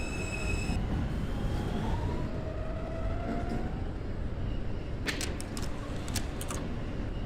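An R160 subway train from the OpenBVE simulator runs along the track with a steady low rumble and rolling wheel noise, a brief electronic tone at the start and several sharp metallic clicks and squeals near the end.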